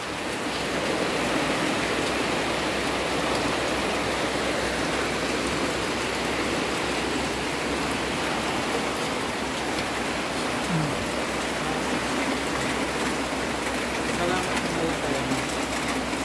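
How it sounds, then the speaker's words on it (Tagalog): Steady heavy rain falling and dripping hard onto a surface nearby, a continuous dense hiss throughout with no breaks. "Ayan, naabutan tayo ng ulan dito."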